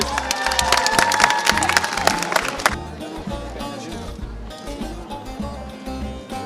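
A crowd at a cooking competition event in Bayburt claps and cheers loudly for a few seconds, then the applause fades into a softer murmur of voices.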